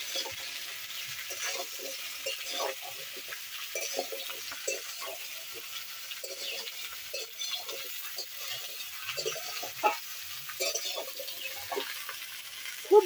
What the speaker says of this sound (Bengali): দিয়ে সবজিগুলোকে আমি ভালোভাবে ভেজে নেব।